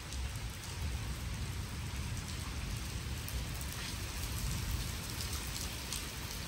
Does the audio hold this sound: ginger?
no